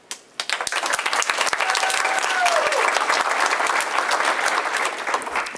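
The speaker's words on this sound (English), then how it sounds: "Can we get another round of applause?" Audience applause follows a student's speech at a school speaking event, dense clapping that swells quickly after a couple of sharp early claps and holds steady and loud to the end.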